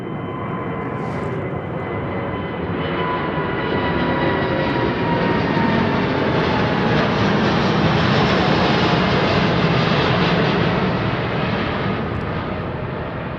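A Boeing 747 jumbo jet departing London Heathrow passes overhead, a loud, steady broadband engine roar that swells and holds through the whole stretch with no voices.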